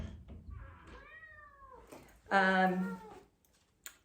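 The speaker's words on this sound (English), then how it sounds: "There's Kitty again." A cat meows twice nearby, first a rising mew, then a louder, longer meow, in an otherwise quiet room.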